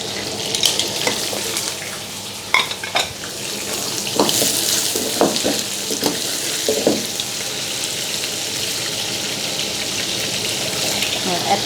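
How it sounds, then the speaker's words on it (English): Seafood stir-frying with curry powder and a little water in a wok, a steady wet hiss and sizzle with occasional clinks of a utensil against the pan, close up, with brief faint talk. "We fry until all this the mixture well cooked."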